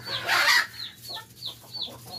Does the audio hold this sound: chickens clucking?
yes